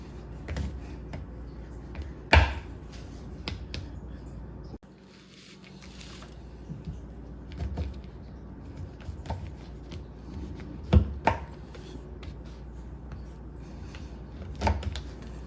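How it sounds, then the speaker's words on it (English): A sharp knife coarsely chops 12 ounces of chocolate into chunks on a board, giving a few sharp, close thuds and crisp cracks scattered among quieter scraping and cutting, with no talk. "now I'm just gonna just coarsely cut it up like this"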